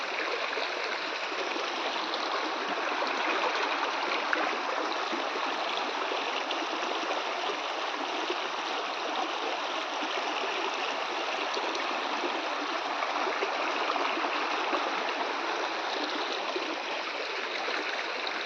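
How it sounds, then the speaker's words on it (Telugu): Rainwater from heavy rain in the Lankamala hills rushes down a stream in a full, steady roar of flowing water, close and constant throughout, with no voices. "వర్షాలు బాగా పడ్డాయి కాబట్టి చూడండి నీళ్ళు అయితే ఎలా పోతున్నాయో."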